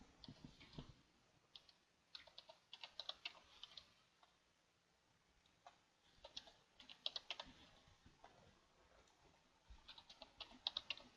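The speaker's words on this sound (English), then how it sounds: "I'll enter the password" Typing on a computer keyboard to enter a password, quiet close-up key clicks in irregular bursts with short pauses between them.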